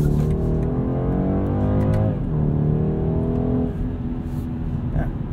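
A 2022 BMW 230i coupe accelerating in Sport Plus mode from inside the cabin: loud engine note rising in pitch, a quick shift, then climbing again under steady road rumble.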